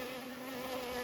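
Honey bees buzzing at an open hive during an inspection, a steady, dense droning hum that fills the air without pause.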